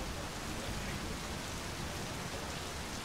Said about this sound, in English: And it's raining, somehow.